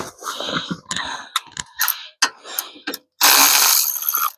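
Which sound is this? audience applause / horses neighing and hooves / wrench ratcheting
wrench ratcheting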